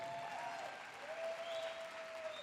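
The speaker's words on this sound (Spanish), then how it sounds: "Un aplauso a Dios nuestro Señor." Applause from a church congregation after a call to praise God, a steady dense clapping that fills the space evenly from start to end with no talk over it.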